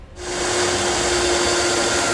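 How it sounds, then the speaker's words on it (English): A power drill with a smaller bit bores a pilot hole for a gooseneck hitch in a 2016 Chevrolet pickup bed, spinning up quickly and then holding a loud, continuous whine close by. "Now we can come back with a smaller drill bit and drill ourselves a pilot hole."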